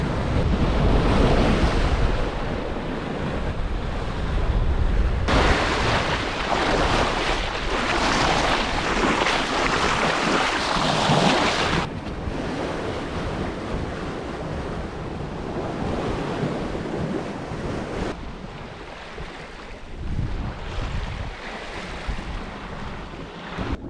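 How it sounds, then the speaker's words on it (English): Ocean waves at sea during an east-to-west Atlantic crossing aboard a sailboat, a steady loud wash of surf mixed with rushing wind buffeting the microphone, swelling and easing without pause. "still quite surreal to be here in the middle of nowhere, surrounded by nothing but sea"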